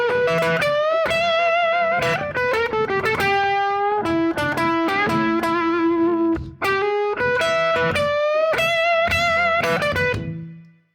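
Electric guitar blues lick over an E shuffle, played with overdriven effected tone: quick bent and slid notes in bursts, held pitches between phrases, alone and close, ending on a ringing note that fades.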